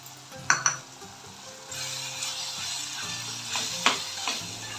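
Cauliflower masala sautés in a pan with a continuous sizzle, broken by a few sharp clinks of a utensil against the metal. No one speaks.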